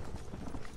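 Hoofbeats of a war horse at a gallop in the Western video game Red Dead Redemption, a dense continuous rumble of clopping steps with steady loudness throughout.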